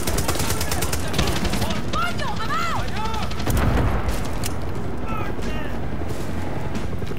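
Rapid gunfire bursts from the video game Far Cry 6, loud and continuous, mixed with explosive booms and battle noise, with a voice talking over the action.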